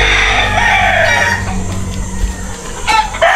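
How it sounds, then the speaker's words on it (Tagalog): Several chickens cluck loudly close by while a rooster crows, short overlapping calls at a seaside spot in Matabungkay. "Dami din pala manok oh."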